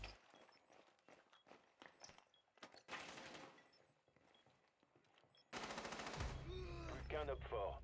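Gunfire in the tactical shooter Rainbow Six Siege, a volley of rapid automatic shots through a wall followed by a louder sustained burst near the end, mixed with footsteps and game noise.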